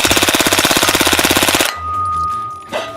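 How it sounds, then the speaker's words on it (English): A rapid burst of automatic gunfire at a shooting range, loud and close, fires about a second and a half of evenly spaced shots before cutting off, followed by quieter handling noises. "It's my favorite gun in the whole world to shoot."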